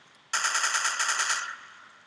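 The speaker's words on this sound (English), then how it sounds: "Somebody put down a fucking sentry gun." A sentry gun in the video game Codename Cure opens fire in one loud burst of rapid, evenly spaced shots that lasts about a second, then trails off into a fading ring.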